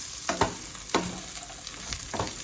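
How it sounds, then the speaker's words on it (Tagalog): Carrots and beans stir-fry with garlic and onion in a pan, a steady sizzle broken by a few sharp scraping strokes of the spatula, close and with no voices. "Haluin lang natin."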